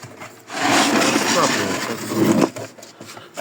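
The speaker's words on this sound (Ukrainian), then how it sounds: "Загружаємо такими веточками." Small twigs being loaded into a Viadrus solid-fuel boiler, giving a close, dense crackling rustle of wood rubbing and scraping for about two seconds before it tapers off.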